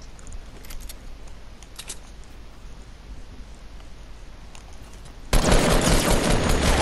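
Gunfire in the Fortnite video game: a few faint sharp cracks early on, then a sudden loud burst of rapid shots that continues to the end.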